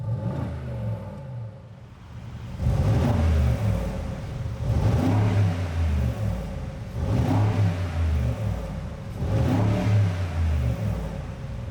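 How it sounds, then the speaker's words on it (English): A Mercedes-AMG G63 V8 engine revs in repeated bursts with exhaust flaps closed in comfort mode, roughly four deep swells that rise and fall, loud and close with a throaty low rumble between pulls. "I just want to show you what the revs are like with the flaps closed and just in comfort."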